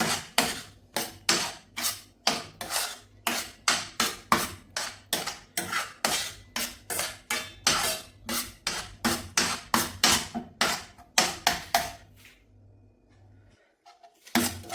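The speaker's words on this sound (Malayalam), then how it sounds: "ഇനി ഈ വെളിച്ചെണ്ണയിൽ കിടന്നിട്ട് നന്നായിട്ട് ഇളക്കിയെടുക്കാം." Curry leaves and green chillies in coconut oil, cooking for a Kerala-style beef curry, are stirred with a spoon that scrapes the pan in about thirty brisk, regular strokes, loud and close, before stopping near the end.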